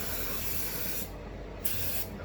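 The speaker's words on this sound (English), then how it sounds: "Give your discs a little spray down." Brake cleaner sprayed from an aerosol can onto motorcycle brake discs, a loud, close, continuous hiss broken by two brief pauses between bursts.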